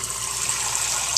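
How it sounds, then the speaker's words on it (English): Water runs steadily from a Delta single-handle faucet after a repair, a brief continuous hiss and splash at close range. "I already turned the water on, make sure there's no leaks"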